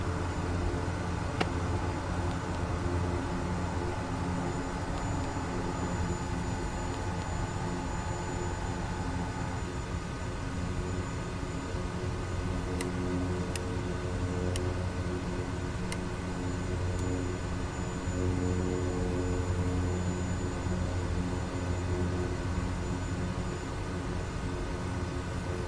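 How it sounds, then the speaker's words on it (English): A steady, loud aircraft engine roar fills the cockpit as reverse thrust is applied in Microsoft Flight Simulator, a continuous broadband drone with a constant hum and no talk. "Reverse thrust to get me off away from these pumps."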